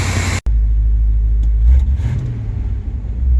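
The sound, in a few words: one-ton truck engine running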